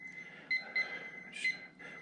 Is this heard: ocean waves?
no